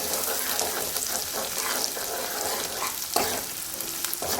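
Ginger garlic paste fries in peanut oil for a tomato curry, a dense, even sizzle close up with a couple of brief stirring knocks.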